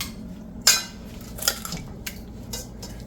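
Salted meat is mixed with blended hot pepper in a bowl, producing a handful of sharp utensil clinks and soft scrapes spaced about a second apart, close but quiet, with no talking.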